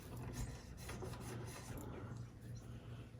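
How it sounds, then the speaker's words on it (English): A fret eraser rubs back and forth against the headstock of a Luna Koi guitar, making soft, quick scratchy strokes in an uneven rhythm, close and quiet with no talk. "A little fret eraser. You can clean up the fretboard."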